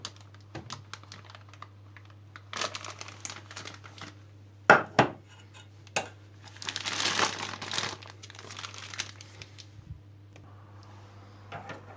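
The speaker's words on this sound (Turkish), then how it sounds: "Ben gene şu şekilde bir torba yardımı kullanacağım. Evet torbaya çikolatamızı şu şekilde dolduruyor." Melted chocolate being scooped into a plastic piping bag for homemade filled chocolates, heard as soft crinkling of plastic and light scraping taps, with a few sharp clicks and a louder rustling burst partway through.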